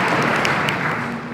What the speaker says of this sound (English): With a warm round of applause, please.